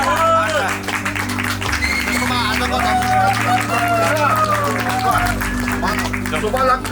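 Wedding guests at a Nepali wedding clap and murmur together in a lively crowd, with steady applause mixed with chatter and a loud low hum running beneath.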